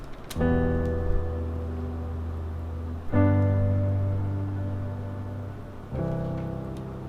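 Three piano chords ring out one after another, each sustained and fading slowly, with slightly uneven, natural-feeling timing between strikes.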